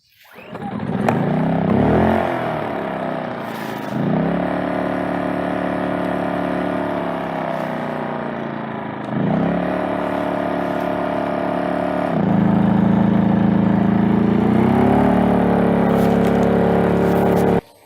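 A 2,000 watt inverter generator runs at full throttle powering a 750 watt well pump, a loud, steady engine drone whose pitch shifts up and down in a few steps as the load changes.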